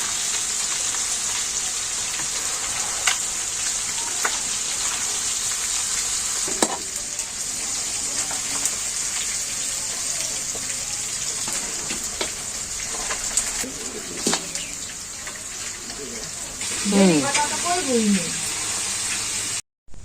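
Fish frying in a pan in a village kitchen, with a steady hiss and crackle running throughout, a few louder pops and a brief stirring clatter near the end.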